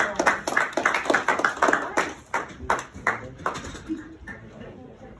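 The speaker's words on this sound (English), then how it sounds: "Big applause for all of" Applause at a council swearing-in ceremony, a short burst of scattered hand claps from a small group that thins out and fades after a few seconds, fairly soft.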